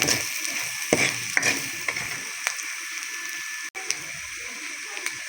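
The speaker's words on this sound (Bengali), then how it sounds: "দিয়ে দেওয়া হইতেছে ধনিয়ার গুঁড়ি দিয়ে দেওয়া হইতেছে জিরের গুঁড়ি দিয়ে অল্প লাড়াচাড়া করে" Coriander and cumin powder stirred in a hot frying pan give a steady close sizzle, broken by scattered scraping clicks of the spoon against the pan.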